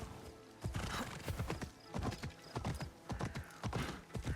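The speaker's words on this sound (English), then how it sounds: "Let's call our horse." A horse called in the Assassin's Creed Shadows video game trots in with rapid, clear clip-clopping hooves, steady and fairly close, alongside light creaking tack.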